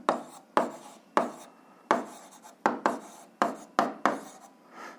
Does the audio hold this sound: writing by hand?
yes